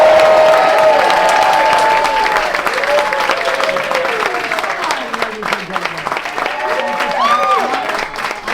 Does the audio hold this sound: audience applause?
yes